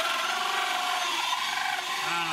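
A power drill whirs steadily into a ceiling, a continuous near grinding-buzz with slight pitch shifts that lasts throughout, alone without talk.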